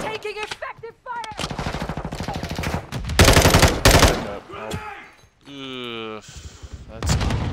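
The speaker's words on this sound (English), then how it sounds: "Taking effective fire." Rapid automatic gunfire from Call of Duty Modern Warfare 2 multiplayer rattles in close, loud bursts, mixed with heavier impacts and a whistling, sweeping tone, with a voice talking briefly over the action.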